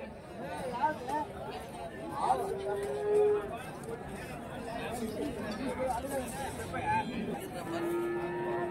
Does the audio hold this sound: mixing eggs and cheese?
no